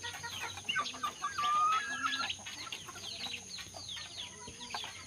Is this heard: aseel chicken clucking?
yes